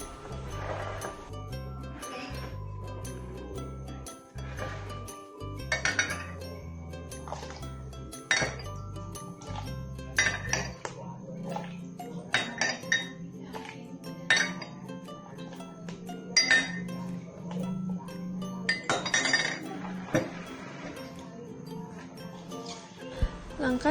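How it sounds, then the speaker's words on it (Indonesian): A spoon clinks against a glass while water is added for a carbohydrate, protein and fat lab test, giving repeated sharp clinks over a low background hum throughout. "masukkan air ke dalam gelas sebanyak 5 sendok"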